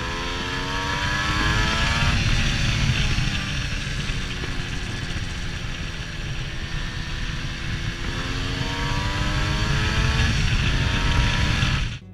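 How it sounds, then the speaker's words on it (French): A high-pitched Yamaha 125 TDR two-stroke motorcycle engine buzzes close by at steady revs, its tone wavering slightly and cutting off abruptly at the end. "Le son du moteur 2 temps, il est très caractéristique, beaucoup plus aigu que les moteurs 4 temps."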